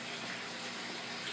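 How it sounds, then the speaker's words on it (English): Water running into an aquarium tank during a water change, a soft, steady gushing and trickling stream heard alone at low volume throughout. "I fill the water in the tank a little bit because I made a water change today"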